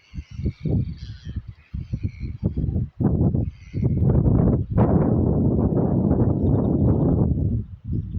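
Black swans in New Zealand give a run of short honking calls at first, followed by a louder, denser stretch of overlapping calls and splashy noise close by.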